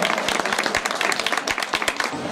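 Audience applause at a colourful stage program in Assam, a dense burst of many hands clapping, loud and continuous throughout with no voices over it.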